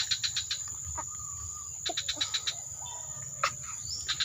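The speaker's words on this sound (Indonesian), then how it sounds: "Ini jenisnya kolibri gede nih, kolibri manggar. Kolibri manggar tapi masih muda ini." A young kolibri manggar hummingbird calling outdoors, with rapid repeated high thin chirps in short bursts over a bed of insect and cricket buzz.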